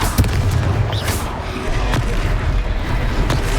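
A Confringo fire spell blasts in the Hogwarts Legacy video game, with repeated booming, explosive hits and crackling bursts running densely through a loud, continuous battle din.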